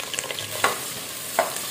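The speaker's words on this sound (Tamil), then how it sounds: "வெங்காயம் நல்லா பொன்னிறமாக வர்ற வரைக்கும் வதக்கலாம்" Chopped onions sauté in hot oil with spices, a soft steady sizzle broken by a few scraping stirs of the pan, close and alone with no talk.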